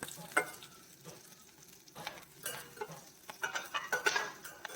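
Ginger and chayote stir-fry in a pan for chow chow, a soft sizzle broken by clusters of spatula scrapes and light clinks against the pan, fairly quiet and without talk.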